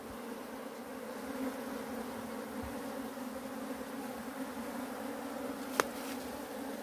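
Honey bees hum in a continuous, even drone around an opened hive during a sugar-water feeding check, steady and close for several seconds with one brief sharp click near the end; no speech.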